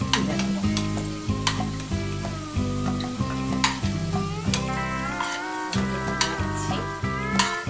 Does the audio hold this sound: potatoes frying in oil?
yes